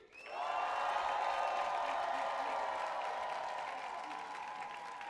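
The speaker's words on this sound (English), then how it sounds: "You make some noise at a count of three." A crowd at a house dance battle roars and applauds in one sustained, loud wave of cheering that swells quickly and then slowly tapers off.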